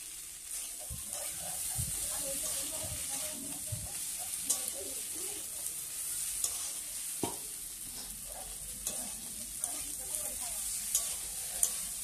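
Bottle gourd greens cooking with brinjal and potato as a Bengali village-style chorchori, stirred steadily in a sizzling pan, with continuous close frying hiss and repeated scraping strokes.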